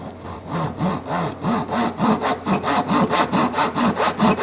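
A Zona 24 TPI Japanese pull saw rasps through wood in steady back-and-forth strokes, loud and close, each stroke clearly separated in an even rhythm.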